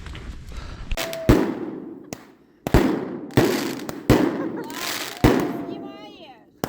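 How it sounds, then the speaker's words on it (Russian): Fireworks go off at a winter overnight campsite with a campfire. A quick series of loud, close bangs and crackling bursts ends with whistling trails, and people talk in between the blasts. "Салют сейчас будет."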